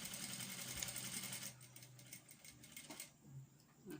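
A sewing machine stitches a fluffy tutu skirt, a faint close whirr running steadily at first and then thinning into softer, intermittent bursts.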